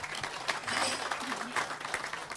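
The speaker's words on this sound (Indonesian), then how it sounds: "Tepuk tangan sekali lagi." A crowd gives another round of applause at an Indonesian speaking event. The clapping is fairly faint, dense and continuous, rippling evenly across the whole stretch with no clear voices.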